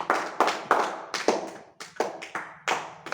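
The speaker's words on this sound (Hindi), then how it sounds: "तो जिन बच्चों ने लिखा उनके लिए सब बच्चे तालियां बजा दें नाम लेके" Schoolchildren in a classroom clap for their classmates, a brisk series of about a dozen sharp, separate hand claps in an uneven rhythm, close and clear with no talking.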